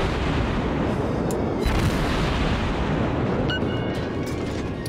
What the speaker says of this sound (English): I'm actually doing the same damage with high explosive rounds as I was with armor piercing.